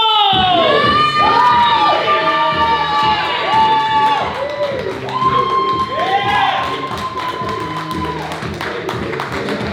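A live comedy audience erupts in loud cheering, whoops and shouts for an improv group taking the stage, steady crowd noise with scattered claps and voices throughout, fading slightly toward the end.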